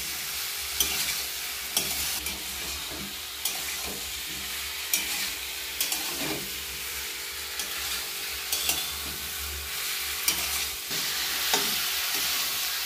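Spices and ginger stir-fried in a pan for a watermelon-rind curry, with steady sizzling and repeated scraping stirs at a regular pace, close and fairly loud, with no talk.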